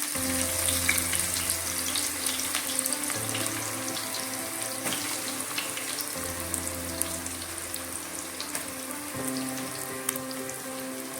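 Thinly sliced onions frying in hot oil in a pan, a dense, continuous close sizzle and crackle holding steady throughout with no voices.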